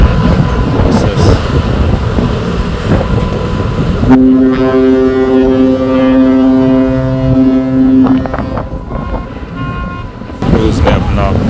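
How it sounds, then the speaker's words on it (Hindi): A large ship sounds its deep, loud horn in one long sustained blast, with engine and water noise before and after it. "उसने अपना मोटा सा हॉर्न बजा के उसे खुदाफिज किया"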